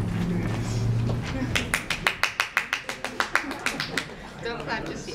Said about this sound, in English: Don't clap just yet.